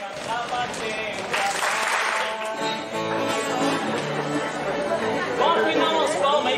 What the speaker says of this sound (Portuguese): bora afinar umas palmas aí que tá meio desafinado